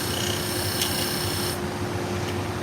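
Pet grooming shears with a beveled edge are ground on a sharpening machine to set a new bevel, producing a steady close rasping hiss with a constant hum that softens partway through.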